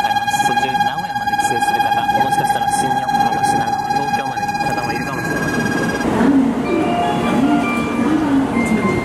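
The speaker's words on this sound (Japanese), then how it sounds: "扉閉まってすぐ走った" A Nozomi shinkansen pulls out of a busy station just after its doors close, with steady electronic tones and platform noise giving way to a rising rush of the departing train, and voices are heard in the background.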